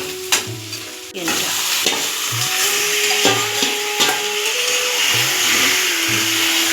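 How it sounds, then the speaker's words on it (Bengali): Onions fry in a pan as a spoon scrapes and stirs them in repeated strokes over a steady, close sizzle. "দেবো এবার পেঁয়াজটা ভাজা"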